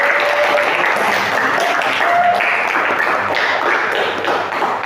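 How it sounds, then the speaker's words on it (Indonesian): A classroom group applauds for themselves, a dense steady patter of hand claps continuing loudly and evenly throughout with no pauses. "Kita beri aplaus untuk diri kita sendiri"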